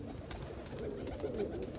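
Kalsara pigeons coo softly nearby in a brief low murmuring run, with faint background noise.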